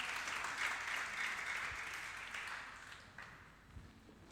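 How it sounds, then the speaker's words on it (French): A church congregation claps and cheers in praise of God, a broad wash of applause that starts full and slowly thins out over a few seconds, heard from some distance. "Est-ce que tu peux acclamer le Seigneur notre Dieu?"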